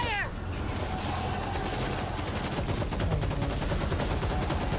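Rapid automatic gunfire rattles continuously in the zombie shooter World War Z during a Tokyo mission, dense and loud with overlapping shots and a voice breaking in briefly at the start.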